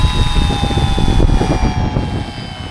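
The electric motor and propeller of an FT Explorer RC airplane rise in a loud, close buzzing whine as the throttle is opened for takeoff on a windy day, with wind rumble underneath.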